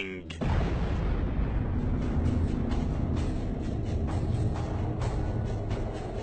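A colossal explosion sound effect for an evaporating mini black hole: a sudden loud, booming onset followed by a sustained rumbling roar with scattered crackles that stays loud throughout, with no voices.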